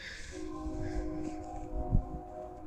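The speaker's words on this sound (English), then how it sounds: "I hear the train a coming." A freight train approaches at Cajon Pass near Mormon Rock beside Highway 15, its steady horn tones sounding faint and distant against low rumbling, with a brief louder thump near the end.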